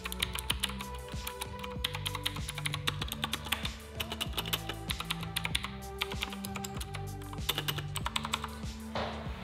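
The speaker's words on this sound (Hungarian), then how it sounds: "ez egy blue switches billentyűzet, és sokkal kattogósabb, fogjátok hallani" Rapid typing on a mechanical keyboard with blue switches, a dense stream of sharp clicky keystrokes in quick irregular rhythm, close and clear with nobody speaking.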